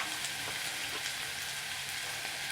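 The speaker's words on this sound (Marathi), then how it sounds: "कांदा छान गुलाबी होत आला आहे आता आपण त्यात मसाले घालूयात" Onions and spices fry in a pan for vada rassa, giving a steady, soft, continuous sizzle with no talking.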